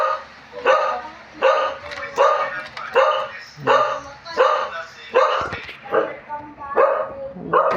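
A dog barks again and again nearby at a fairly steady rhythm, about once every half second to second, loud and sharp, while people talk over it at home.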